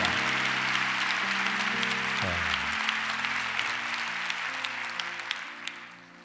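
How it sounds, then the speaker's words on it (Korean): Congregation at a Korean prayer gathering claps in thanks after a testimony, a steady crowd applause over sustained keyboard chords that shift midway, gradually thinning toward the end. "감사의 박수를 드리겠습니다"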